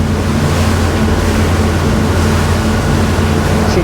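SACS 42 boat running at around 29 knots, a constant roar of engines and rushing water with heavy wind buffeting, loud and unbroken throughout.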